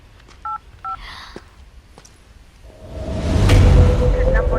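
Phone number being dialled on a keypad, two short clear DTMF beeps near the start, followed by quiet clicks and then a swelling whoosh and rumble.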